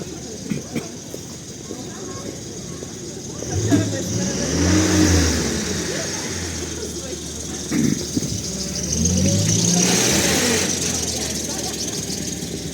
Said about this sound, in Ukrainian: А, це комунальний автомобіль, він може їздити навіть в пішохідній зоні